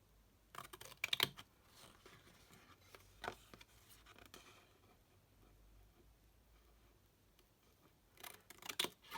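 Scissors trim a paper mat for a small handmade gift box in quiet, close crisp snips, a cluster near the start, a few scattered cuts, and another burst at the end.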